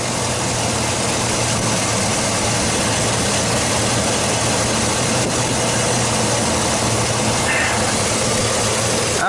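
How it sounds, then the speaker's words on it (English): A Chevrolet Silverado engine idles loudly and close up with a misfire, giving a constant low rumble with slight irregular dips. "I can feel the engine misfiring and the RPM dropping on every coil"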